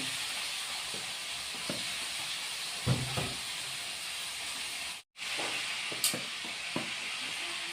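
Ridge gourd frying in a pan gives a quiet, steady sizzle with a few soft scrapes of stirring and a brief break in sound, close but low in level, with no voices.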